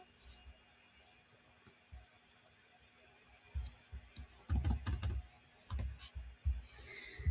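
An email address is typed on a computer keyboard in a series of quiet clicking keystrokes, sparse at first and then in quick bursts toward the end, close to the listener with no talking.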